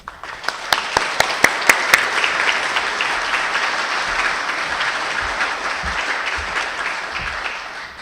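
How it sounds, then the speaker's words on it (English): A crowd applauds at an architecture awards symposium with loud, sustained clapping that fills the room for eight seconds. A few sharp, distinct claps stand out near the start before the applause settles into an even, dense roar. "We proudly applaud Carl Laubin."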